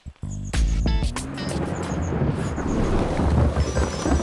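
Thunder cracks and rumbles over steady heavy rain in a forest, with a sharp loud clap near the start followed by continuous rolling noise and downpour.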